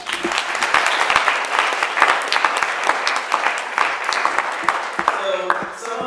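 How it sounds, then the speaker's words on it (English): Audience at an art presentation event bursting into a dense round of applause, many hands clapping at once in a loud, sustained patter that eases slightly toward the end. "So if we can give them a round of applause."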